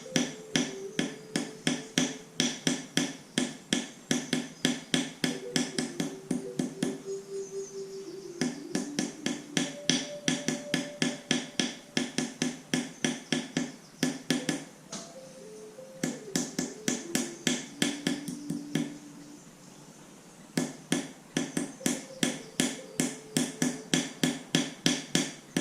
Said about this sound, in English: as you hammer this, it's going to start kind of bowing up because you're stretching the metal